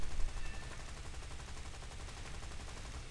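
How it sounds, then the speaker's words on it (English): Rapid machine gun fire from a fighter plane's twelve guns in War Thunder, a continuous fast rattling burst heard steadily throughout, fairly quiet and without talk. "Eat 12 machine guns."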